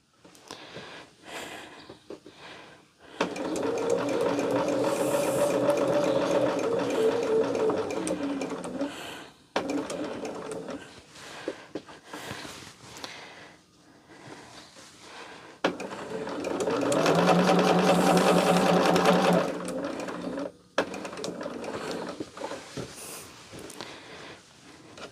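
A sewing machine stitches fabric in two long, loud runs of rapid mechanical whirring, separated by a pause with softer handling noises and brief clicks, close by and with no talk.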